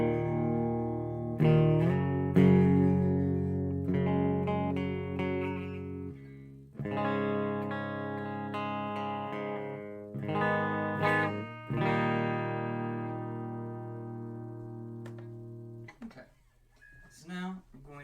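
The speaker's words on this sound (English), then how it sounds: "I'm going to be using the Randall KH120, and I'm currently on its clean channel, which sounds like this." Electric guitar played through the clean channel of a Randall KH120 amplifier, ringing sustained chords and picked notes with a bright, undistorted tone, steady and close, with a brief pause midway and no talking.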